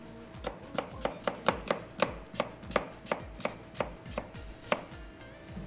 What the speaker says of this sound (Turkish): elmayı da çok küçük küçük gördüğünüz gibi şöyle bir doğrayalım